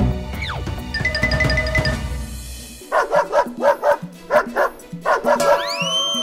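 A cartoon jackal imitates a dog, voicing a run of about ten loud, rhythmic barks that follow a brief musical jingle.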